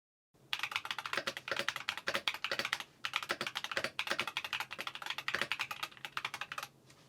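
Typing on a custom wood and epoxy keyboard fitted with Akko Cream Blue Pro tactile switches and SA profile keycaps gives steady, close, rapid keystroke clacks with a brief pause partway through.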